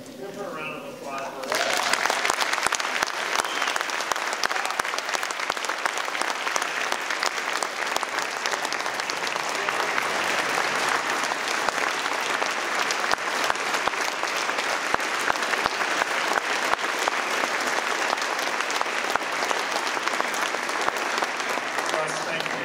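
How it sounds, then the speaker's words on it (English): Loud, sustained audience applause fills the room, steady and dense from start to finish after a brief quieter opening. "Give her a round of applause."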